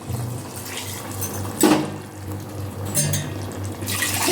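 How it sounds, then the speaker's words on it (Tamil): Water is poured from a tumbler into a pot of mutton leg biryani in a couple of splashing pours, close and moderately loud, with no talking. "இந்த டம்ளரில் வந்து அஞ்சு டம்ளர் தண்ணி ஊற்றுவேன்"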